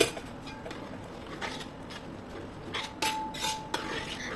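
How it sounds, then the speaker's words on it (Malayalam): Broken wheat and jaggery syrup being stirred together in an uruli for payasam: a ladle scrapes and clinks against the vessel, with sharper clinks near the end over a quiet, steady background. "അതിലേക്ക് നമ്മൾ ഉരുക്കി വെച്ച് ശർക്കരയും കൂട്ടി ഇട്ടിട്ട് നന്നായിട്ടൊന്ന് മിക്സ് ചെയ്ത് കൊടുക്കുന്നുണ്ട്"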